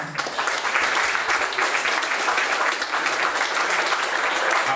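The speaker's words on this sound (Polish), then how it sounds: "Należą się oklaski obu artystom." Audience at an international biennale in Ostrów Wielkopolski applauds two artists, a dense, loud burst of clapping that stays steady for several seconds with no voices over it.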